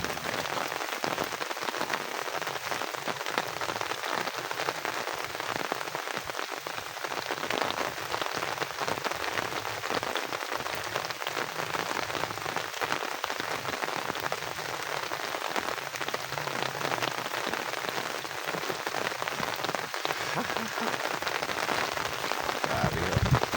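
Steady rain falls on a farm, a dense, unbroken hiss of drops striking nearby surfaces that stays loud and even for the whole stretch.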